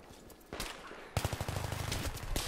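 M16 rifle gunfire in Battlefield 3: a couple of separate shots, then a rapid burst of sharp repeated cracks close up, loud against a low background of game noise.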